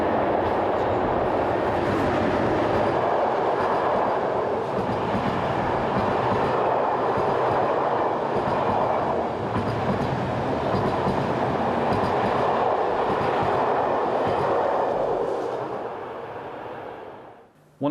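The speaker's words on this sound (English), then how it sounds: "The 744-metre long Klamstein tunnel sees 1116123 emerging, hauling the 726 from Munchen to Klagenfurt." Austrian electric locomotive 1116 123 hauls a Munich to Klagenfurt passenger train out of the 744-metre Klamstein tunnel, a steady loud rumble of wheels and carriages rolling past close by before fading at the end.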